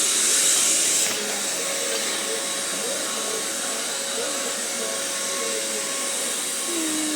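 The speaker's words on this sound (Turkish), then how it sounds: "Süpürge geliyor ben konuşamayacağım" A vacuum cleaner drones steadily at close range, a continuous whirring hum that holds unchanged from start to finish with no talking.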